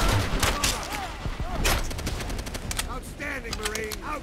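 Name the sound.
gunfire in video game Call of Duty: World at War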